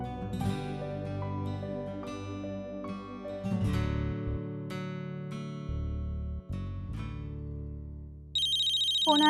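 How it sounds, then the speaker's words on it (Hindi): A mobile phone rings with an incoming call, playing a melodic electronic ringtone that runs steadily for several seconds, loud and clear with no voices over it. "फोन आया।"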